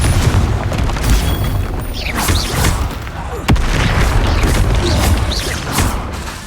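The Confringo fire spell explodes in Hogwarts Legacy, a loud booming blast amid dense, continuous combat noise with sharp impacts.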